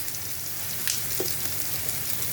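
Two green chilies drop into hot oil with cooked-down spice paste in a pan, giving a continuous close, crackling sizzle with a few brief spits and no voices.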